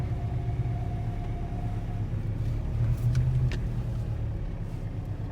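1992 Toyota Estima Lucida AWD turbo diesel with a five-speed manual, driving through a neighborhood, a low steady engine rumble from inside the cabin with a slight swell partway through, fairly quiet and without talk.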